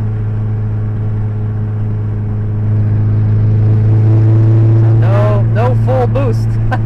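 A Mitsubishi Galant VR4 running a downpipe with no muffler accelerates hard, its loud, steady exhaust drone rising in intensity before a voice speaks over the roar toward the end.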